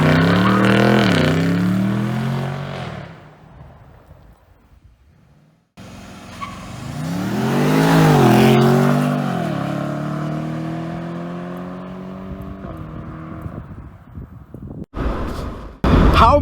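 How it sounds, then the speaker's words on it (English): A 2019 BMW M850i launching under launch control and accelerating hard, a loud engine roar climbing through gears with a lift and pause, then another long pull that fades into rushing road noise. "it absolutely rockets off the line with that launch control engaged"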